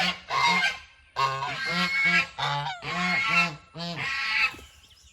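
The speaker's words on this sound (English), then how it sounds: "The goose has come after me now." A goose honks aggressively at close range, a loud series of harsh, repeated honks in rapid bursts with short pauses between them, dominating the scene.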